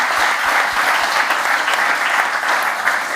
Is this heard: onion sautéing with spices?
no